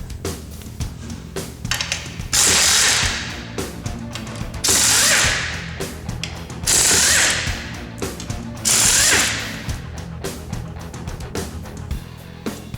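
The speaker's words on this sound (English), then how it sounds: "Next, we're going to remove the fuel tank mounting bracket." A ratchet tool works on the fuel tank mounting bracket of a Honda TRX300 ATV, giving rapid close-up clicking in repeated bursts of about two seconds, separated by quieter metallic handling noises, with no talking.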